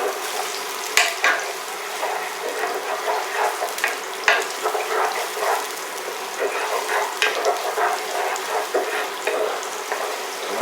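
Shallots sizzle and crackle as they fry in a pan, a continuous close hiss with small popping bursts and occasional stirring.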